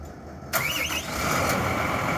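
A 2019 Hino 258 truck's diesel engine cranks briefly after a glow plug delay and catches, then settles into a steady, rumbling idle close by.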